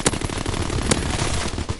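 Rapid automatic gunfire from the player's weapon in the World War II shooter Call of Duty WWII, a dense burst of close, loud shots rattling steadily for the whole stretch with a couple of sharper cracks.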